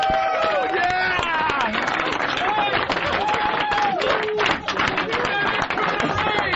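Loud, dense studio-audience applause mixed with roaring laughter and crowd noise, continuous for several seconds on a radio show, with voices shouting and laughing over the clapping.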